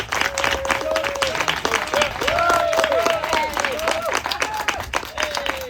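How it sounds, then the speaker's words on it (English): An audience at a 100-year celebration event gives a sustained round of applause, dense clapping filling the room steadily with a few whistle-like tones rising above it. "let's give him a round of applause"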